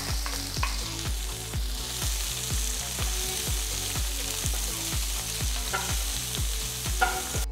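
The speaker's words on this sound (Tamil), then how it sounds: "அடுத்து இதில் நறுக்குன 3 பெரிய வெங்காயம் போட்டு வதக்குங்க." Chopped large onions fry in hot oil with whole spices while being stirred, a continuous sizzle punctuated by regular scraping strokes of a spoon against the pan, close and steady.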